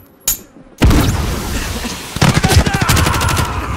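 Gunfire in the shooter Call of Duty Modern Warfare: a single sharp shot, then a loud booming burst followed by rapid automatic fire rattling in quick bursts, close and intense, with a voice briefly speaking.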